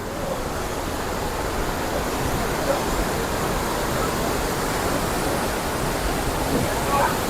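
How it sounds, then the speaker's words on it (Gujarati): The Yamuna river rushing below a bridge near Yamunotri, a continuous, loud roar of churning mountain water that stays steady throughout. "યમુના નદી વહેતી જોઈ લો"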